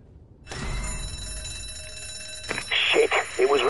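An in-game alarm bell rings continuously from about half a second in, a steady bright metallic tone, with a louder burst of layered game noise and clatter entering near the end.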